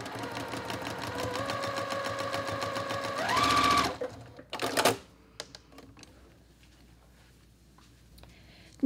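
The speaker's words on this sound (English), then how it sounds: "just sew with a quarter inch seam" A sewing machine runs steadily for about four seconds, stitching a quilt block with a quarter inch seam, then stops; a few brief handling clicks and rustles follow, and the rest is quiet.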